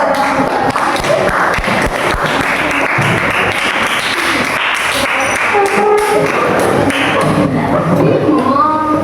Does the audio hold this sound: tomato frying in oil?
no